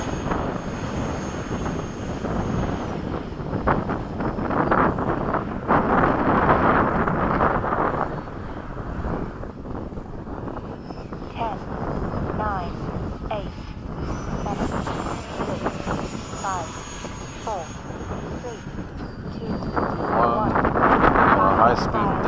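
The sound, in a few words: model F/A-18 EDF jet flying at high speed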